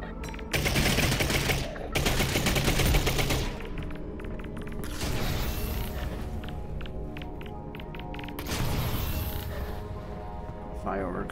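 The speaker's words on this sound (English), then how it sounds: "Fireworks going off into the city tonight." Rapid crackling bursts and booms of fireworks over a city echo in open air, loud and continuous, with a few voices talking at moments.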